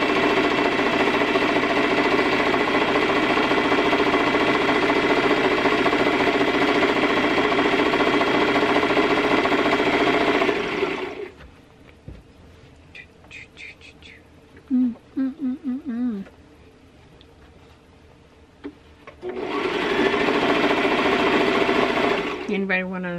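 A sewing machine runs in a steady, loud mechanical whir for about ten seconds, stops for a quiet stretch with small clicks, then starts stitching again.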